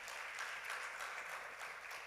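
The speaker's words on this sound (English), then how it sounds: "I thought we'd give Jonathan a bigger hand clap" Applause from a conference audience at an innovation week event in Uganda, a dense steady wash of many hands clapping at moderate distance, sustained and even throughout with no talk over it.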